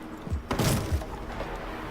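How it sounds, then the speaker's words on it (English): A single melee strike smashes through a wooden barricade in Rainbow Six Siege, giving a sharp splintering crack followed by a heavier thud, loud and close against a quiet game backdrop. "A single melee hit from an attacker is enough to break through."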